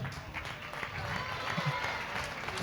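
Audience applause for the cast of a Sri Narasimhavatar devotional drama at a temple stage, a steady dense patter sustained throughout, fairly soft and slightly distant, with faint voices mingling underneath.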